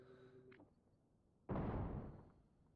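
A big explosion goes off in the video game Stationeers, a sudden loud broadband blast that hits hard and rumbles on for about a second before tailing off, preceded by faint quieter game sounds.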